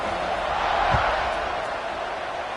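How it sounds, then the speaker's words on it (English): Stadium crowd in the College Football 26 video game buzzes as a steady, dense roar after a score, with a brief low thump partway through. "this crowd is buzzing after that last score"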